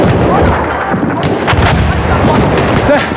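Loud bursts of automatic machine gun fire crack and boom in a Battlefield video game battle, rapid overlapping shots with heavy low-end rumble throughout.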